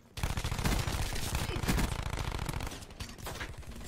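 Rapid automatic gunfire rattles in Call of Duty Black Ops 4 Team Deathmatch on the map Grind. The bursts are loud and close, with dense repeated shots that thin out toward the end.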